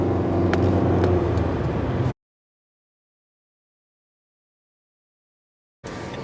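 Cars crowd a gas station in heavy traffic during a fuel shortage. A loud, continuous engine rumble and whir is cut off for several seconds by complete silence, then resumes.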